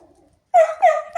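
A dog barks up close, three sharp, loud barks in quick succession after a brief quiet whine.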